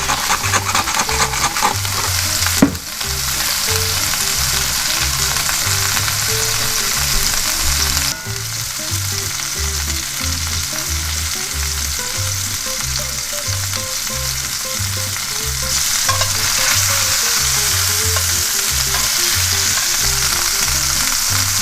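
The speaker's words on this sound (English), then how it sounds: "we're just going to sear that up on all the sides" Pork tenderloin sears in a hot oiled pan, giving a loud, steady sizzle and frying crackle throughout, with a few brief clatters of the pan or utensils as the meat is turned.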